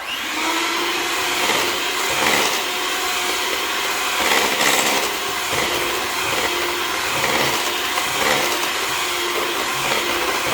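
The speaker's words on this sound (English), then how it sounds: "I'm just going to cream this a bit" Sweetcorn cake batter being creamed with an electric mixer, a loud continuous close whirring motor drone with a steady pitch and slight rubbing variations throughout, no talking.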